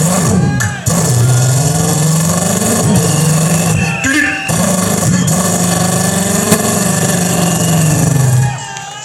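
A man imitates a Bullet motorcycle engine with his voice, holding a low steady droning rumble for several seconds with a short break midway and a brief rev, loud and close, while a crowd murmurs in the background.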